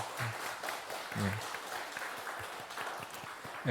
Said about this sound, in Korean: 우리 한번 박수로 축복하고 축하하겠습니다